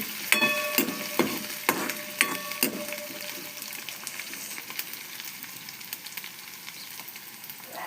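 Potato and eggplant with garlic paste sizzle softly in a pan, a few sharp spatula clinks and scrapes early on, then a quieter steady fry.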